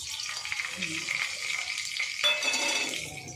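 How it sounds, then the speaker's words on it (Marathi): Mustard seeds sizzle and crackle in hot oil with a sharp burst of spattering partway through, moderately close, with light stirring and no speech over it. "राई टाकून घेऊया तेल गरम झालं आहे"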